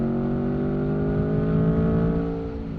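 An Aprilia Tuono 2021 Factory 1100 motorcycle engine pulls hard under acceleration, a loud, smooth rising whine with clear steady tones that eases off at the end.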